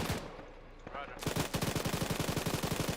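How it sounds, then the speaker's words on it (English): Sustained machine-gun fire in a military simulation game, a fast, steady string of loud bursts that starts after a brief quieter stretch. "We are suppressing targets south of your position in that tree line."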